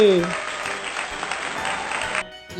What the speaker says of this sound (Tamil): அவங்களுக்கு பெரிய கைத்தட்டல்